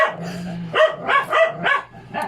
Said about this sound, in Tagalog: Nagigil po kami sa aso namin.